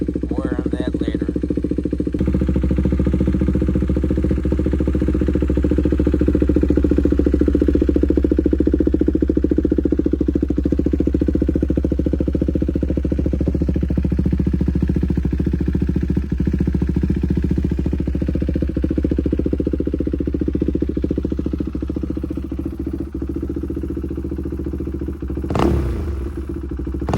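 Loud, steady engine exhaust drone from a car with the pre-muffler deleted and a Competition Werks mid-pipe, rumbling continuously throughout with a brief higher whine near the end.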